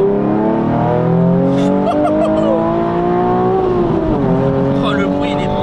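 Nissan 370Z Nismo with manual gearbox and full-tube exhaust revving, a loud harmonic engine note climbing steadily in pitch, dropping briefly, then rising again, heard from inside the car.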